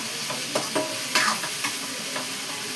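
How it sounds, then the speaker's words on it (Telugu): Mutton frying in oil in a pan, a steady loud sizzle with occasional stirring scrapes and bursts of spatter, close by and without talking. "ఇలా వేగాలండి, బాగా వేగాలి"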